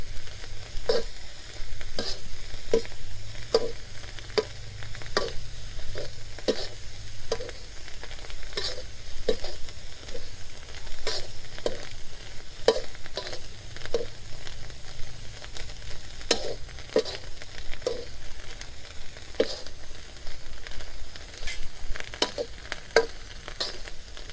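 Crickets are dry-roasted with herbs in a pan, giving a continuous crackling sizzle with regular scraping strokes of the stirring utensil, steady and fairly loud throughout with no voice.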